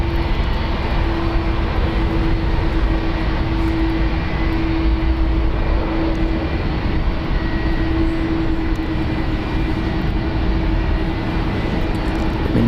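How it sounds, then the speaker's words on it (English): A United Boeing 777 lines up on runway one right at San Francisco International Airport, its jet engines a loud, steady roar with a sustained whining tone, continuous and close throughout. "777 United lining up on the one runway,"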